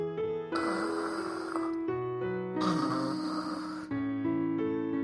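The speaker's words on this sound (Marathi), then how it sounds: "झोपाळू बेडूक घोरतच राहिला।" A sleeping frog snores in a cartoonish way, with two long, breathy snore cycles rising and falling over steady background music and no talking.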